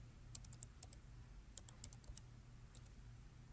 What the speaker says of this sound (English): Begin by typing the well name and a list will appear.